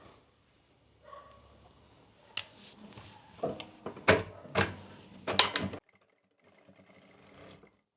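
A sewing machine runs a fitting seam on a kurti in short, uneven bursts of close mechanical clatter with pauses between, then a faint hum at the end.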